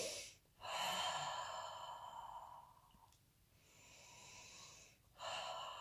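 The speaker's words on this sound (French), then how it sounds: "C'est comme ça une respiration ample." Deep, ample breaths drawn in and let out slowly during a relaxation exercise, close and airy, with long whooshing exhalations separated by short pauses, no talking.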